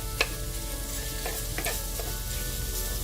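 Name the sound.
mashing and breaking up pork in a pan with a spoon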